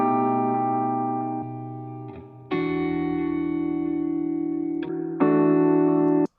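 Guitar chords through a wideband phone filter EQ, giving a thin, band-limited telephone-like tone, struck in a few sustained blocks with brief gaps, slightly distorted and washed in effects.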